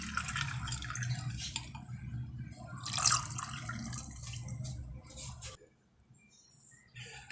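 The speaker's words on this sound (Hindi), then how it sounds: "पानी डाल देते हैं। ठंडा ही पानी है," Cold water pours into a jar of lemon juice and sugar in a steady, close splashing stream for about five seconds, then stops.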